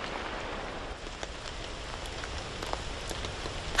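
Heavy rain pours down in a bamboo forest, a dense, continuous patter of drops striking leaves and surfaces, close and steady throughout.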